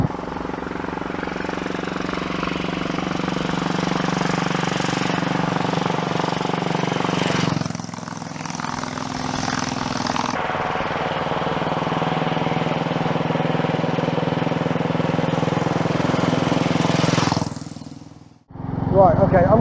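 Royal Enfield Bullet 500 with sidecar, its engine droning loudly and steadily at high revs close by, with a brief dip around the middle and a sharp drop near the end as the revs fall before picking up again.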